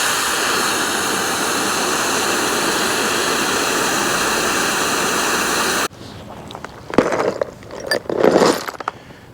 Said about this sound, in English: I'm gonna go ahead and rinse off this hardware.